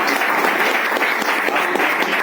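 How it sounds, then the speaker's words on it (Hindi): Dense, loud audience applause at a public gathering in India, continuous crowd clapping filling the whole stretch with no voice over it. "इनके लिए भी ताली बजाइए।"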